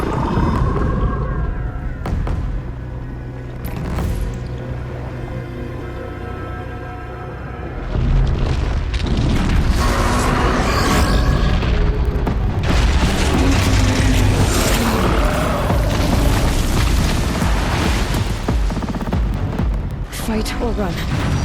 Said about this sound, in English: Rock breakers make these mounds when they attack.